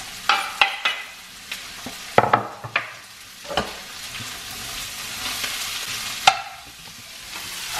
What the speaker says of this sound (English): So now I'm going to add all the vegetables, the ginger, the chilli and the garlic.